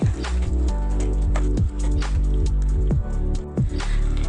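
Thick masala paste being stirred into chicken keema in a pan, giving repeated wet squelches and soft drips at an uneven rhythm, close and fairly loud over a steady low droning background.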